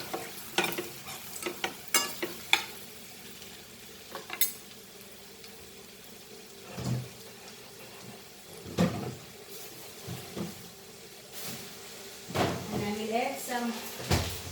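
Cumin seeds fry in oil in a pan for a taro root (arbi) dish, a soft, steady sizzle broken by utensil clinks and stirring knocks while a person talks intermittently.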